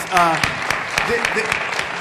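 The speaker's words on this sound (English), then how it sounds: "Let's give Jim Denninger another round of applause." A meeting audience at a business community gathering on the Purple Line gives a round of applause, a short burst of clapping that rises quickly and continues at moderate level, with a voice over it.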